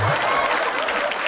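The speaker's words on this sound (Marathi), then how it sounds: "एकदा जोरदार टाळ्या माझ्यासाठी झाल्या पाहिजे" A studio audience at a Marathi comedy show breaks into a dense burst of applause, steady and close throughout the short moment.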